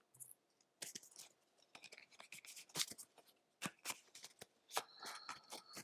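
Playing cards from the Flip 7 card game being drawn and slid off a deck, a quiet close series of crisp flicks and snaps in irregular bursts, with no one talking.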